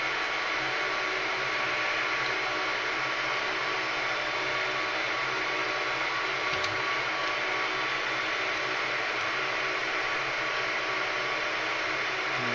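A hot air gun blows a steady, loud, continuous rush of air while heating an ebike hub motor, the whooshing drone constant throughout with no talking.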